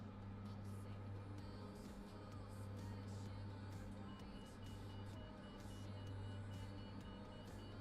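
A repeating warning beep sounds in the Microsoft Flight Simulator 2024 cockpit, a steady series of short tones over a loud continuous engine and cabin hum.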